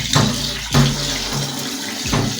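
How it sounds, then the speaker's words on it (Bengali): Rice being washed by hand in water for chicken biryani, with splashy sloshes and swirling water bursts recurring in a loose rhythm, close and fairly loud, no speech. "চালটাকে আমি আরেকবার ধোবো।"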